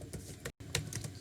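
Light tapping on a computer keyboard, a handful of soft separate keystrokes at an uneven pace with a brief dropout midway, quiet and close.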